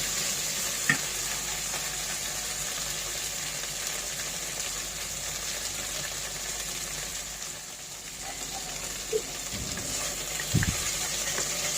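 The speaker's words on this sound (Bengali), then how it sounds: "তো এই যে ঢেঁড়সগুলো বেশি ভাজা যাবে না, একটু কালার চেঞ্জ হওয়া পর্যন্ত ভাজবেন।" Okra fries in hot oil in a steady, close sizzle that runs throughout, broken by a few soft stirring knocks.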